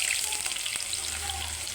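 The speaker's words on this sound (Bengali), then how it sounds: "এবার পেঁয়াজটা আমি সুন্দর করে ভেজে নিব" Onion sizzles in hot oil in a pan at the start of a chicken curry, a steady, close crackling hiss with faint stirring over the short stretch.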